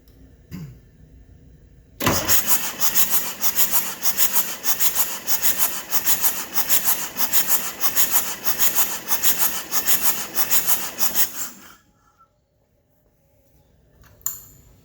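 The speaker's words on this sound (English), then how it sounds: "This thing is leaking like crazy." Air hissing and sputtering from a leaking fitting on a 1959 Case 800 tractor, a loud steady rushing burst that runs about ten seconds, then cuts off abruptly into quiet.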